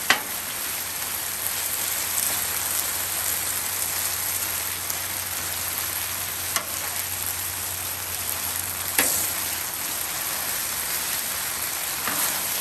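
Chicken frying in a pan, a steady dense crackle and spatter of hot oil throughout, close and even, with a couple of brief sharper pops and no talking.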